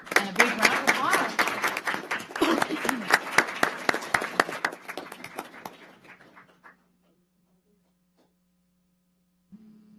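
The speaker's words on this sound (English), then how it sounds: "And a big round of applause." Council meeting audience giving a round of applause for an award certificate, a dense burst of clapping for several seconds that thins out and stops, leaving a low hum in a quiet room.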